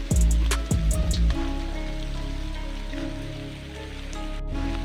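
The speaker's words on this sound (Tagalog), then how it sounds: "umuulan umuulan na naman" Steady rain hisses without a break. A few sharp ringing strikes sound at the very start, then the rain carries on alone.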